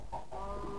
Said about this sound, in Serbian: Kokoš.